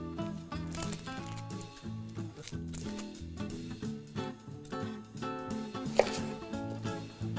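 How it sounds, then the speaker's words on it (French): A knife cuts and peels a shallot, giving close, dense, rhythmic chopping and scraping taps throughout with one sharper click near the end and no talk. "Nous allons maintenant émasser une échalote, donc juste à l'éplucher"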